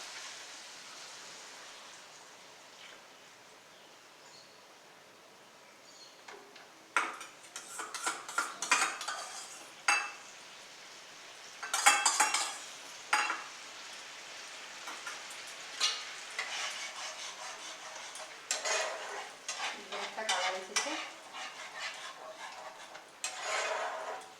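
Sour yogurt stirred into a frying spice masala for Bengali rui fish, a quiet sizzle that turns into irregular metal scraping and clinking of a spoon against the pan, growing busier later.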